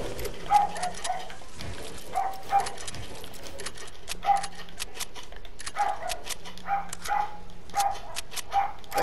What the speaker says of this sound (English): That's like a dog.